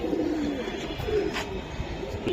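Silver pigeons coo softly at a pigeon market, a few low, rolling calls rising and falling, quiet and close against faint background noise.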